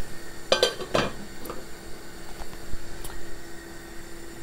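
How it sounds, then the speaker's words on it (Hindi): Metal lid set onto a pot of rice boiling on a stove, a few quick clinks and clatters early on, then a soft bubbling hum with faint taps. "चावल जो हमने चूल्हे पर रख दिए बॉयल होने के लिए तो हम इनको कवर कर देंगे"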